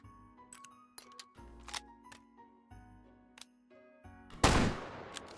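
A Gewehr 1871 single-shot rifle chambered in 11.15x60 fires in the VR shooter H3VR, with several sharp, close reports separated by pauses for reloading clicks, then one final loud, ringing blast.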